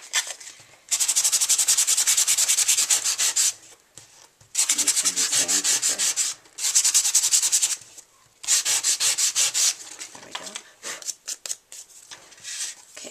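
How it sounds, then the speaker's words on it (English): Sandpaper rubs briskly over a square of white core cardstock in several bursts of rapid back-and-forth strokes, close and crisp, separated by short pauses, with no talking. "I'm going to sand this a little bit because this is white core cardstock."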